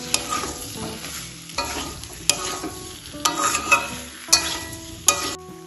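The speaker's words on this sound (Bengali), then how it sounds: "এখন আমি এর মধ্যে দিয়ে দেবো ভেজে রাখা আলুগুলো। আলুগুলো মশলার সাথে ভালোভাবে কষিয়ে নেব।" Pre-fried potatoes stirred and sautéed with spices in a kadai, loud close scraping strokes in an uneven rhythm over a constant sizzle of oil, with no talking.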